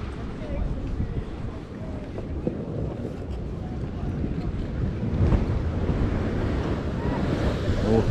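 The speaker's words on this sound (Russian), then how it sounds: "Ух, там волна стукнула, ударила сейчас сильно." Sea waves crash along the Yalta embankment in Crimea in April, a continuous rushing surf with one harder thud near the middle, mixed with heavy wind buffeting the microphone.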